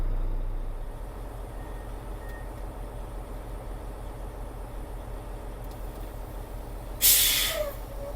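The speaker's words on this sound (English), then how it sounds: "we use the switch to lower the airbags" A semi-truck tractor idles in a low, steady throb, then its air suspension airbags are lowered with one short, loud burst of air hiss near the end.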